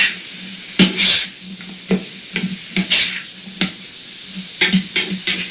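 Onions and red beans with sriracha sizzle in a pot as a spoon stirs them, producing sharp, irregular scraping strokes over a low, steady sizzle, close and loud.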